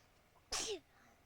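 One sharp, close sneeze bursting out of a quiet background, brief and loud.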